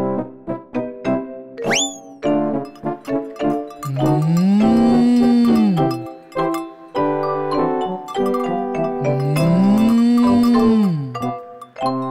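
A black and white toy cow lets out two long, drawn-out moos, loud and close, over a bright tinkling musical jingle.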